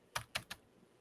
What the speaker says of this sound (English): I'm typing on the wrong keyboard.